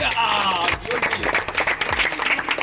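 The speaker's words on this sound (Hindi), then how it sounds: "इनके लिए तालियां" Applause from an audience at a children's general knowledge quiz competition, rewarding a correct answer, with dense clapping running under overlapping talk and background voices.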